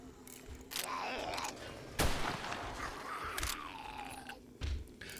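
Gun blasts from the video game 7 Days to Die during a horde night, several sharp shots spaced irregularly among game noises and low rumble, with no voices.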